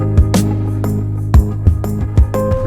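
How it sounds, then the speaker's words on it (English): Low bass guitar plays chord roots beneath a full pop production, with sustained deep notes changing every beat or so under brighter strummed and keyboard layers, loud and steady. "I added some low bass guitar, playing the roots of the chords."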